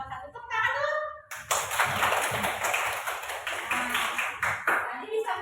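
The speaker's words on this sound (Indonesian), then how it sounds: "Tepuk tangan dulu" Children clap their hands in a classroom, a burst of quick uneven claps after a short stretch of a teacher's voice, with kids chattering under the clapping.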